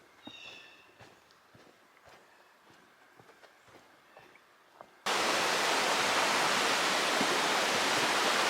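Footsteps crunch quietly along a forest stretch of the Appalachian Trail, then a river at a trail crossing roars up close as a loud, steady rush of flowing water.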